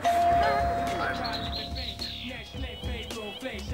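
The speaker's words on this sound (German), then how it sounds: "Die Klingel ging." A doorbell chimes in The Sims video game, its ringing tone heard at the start amid busy game sounds and a person talking.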